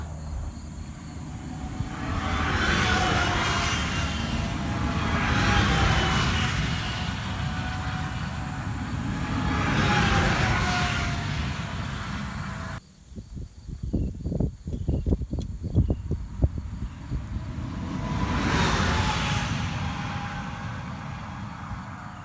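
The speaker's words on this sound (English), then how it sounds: "77 decibels that's all 3 cars going by at once" Three SCCA race cars pass together at a sound-measurement session, their noise rising and fading in broad swells from a moderate distance, with a brief quieter gap of clicking and handling noise between passes.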